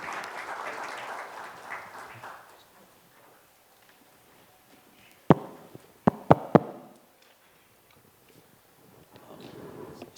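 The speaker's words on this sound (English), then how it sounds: "Round of applause for our speakers and moderator." An audience applauds speakers and a moderator at a panel on tariffs; clapping fades out within a few seconds, followed by quiet, a few sharp knocks or thumps, and soft applause returning at the end.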